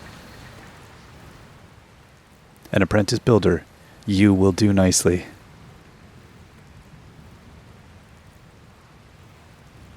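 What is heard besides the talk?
rain in the video game Dragon Quest Builders 2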